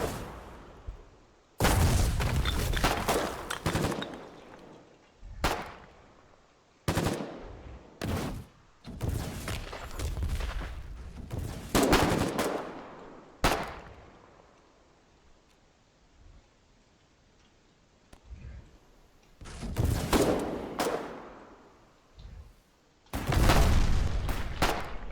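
Incoming rifle and machine gun fire in the Foxhole war game, heavy bursts and single cracks from east and west arriving in irregular clusters, with quieter lulls between volleys.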